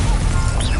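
Stupefy spell impact in Hogwarts Legacy: a short, loud crashing whack with a bright shimmering burst over busy combat noise.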